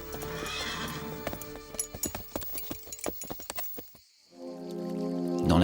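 A horse's hooves clip-clop in a quick, steady rhythm, then stop after a brief pause, and a loud, drawn-out neigh follows close by.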